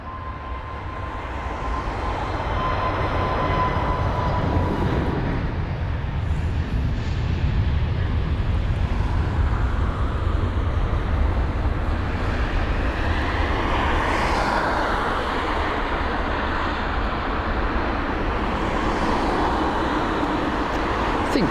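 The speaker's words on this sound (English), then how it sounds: "You got TAP Air Portugal, the A321neo. Now this is a stunning aircraft, capable of doing such long routes. Flight number TP1359 off to Lisbon." A TAP Air Portugal Airbus A321neo takes off at London Heathrow on flight TP1359 to Lisbon. Its jet roar is broad and sustained for about twenty seconds, swelling early and staying loud before easing slightly toward the end.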